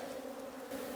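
Honey bees buzz in a bee yard with a close, steady, droning hum that holds evenly throughout, with no speech.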